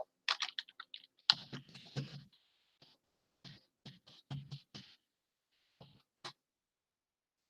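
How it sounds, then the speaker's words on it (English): Quick bursts of typing on a computer keyboard, with clustered key clicks and short pauses between words, close and fairly loud with no speech. "there's me typing in the chat"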